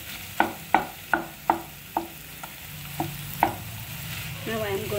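Tomatoes and paneer are stirred in a frying pan with a series of crisp, evenly spaced clanks of a utensil against the pan, followed by a soft sizzle that grows slightly louder at the end.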